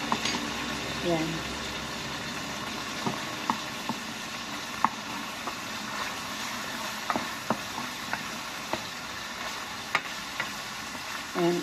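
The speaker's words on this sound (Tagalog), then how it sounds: "Gisa na po natin itong bawang at saka itong sibuyas." Garlic and onion sizzle and fry in leftover oil from frying meat, with steady crackling and occasional stirring clicks throughout; a person speaks briefly over the cooking.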